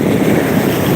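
Steady rushing surf of sea waves along the shore of the Holy Sea, a continuous broad wash blended with wind buffeting the microphone, close and fairly loud with no voices.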